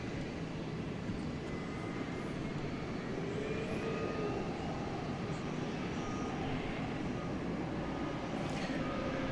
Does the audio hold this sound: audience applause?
no